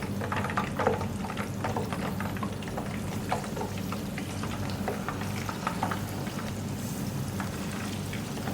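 Desi-style chicken pieces fry in hot oil with a dense, steady crackle and scattered pops that carry on evenly throughout, close up and with no voices.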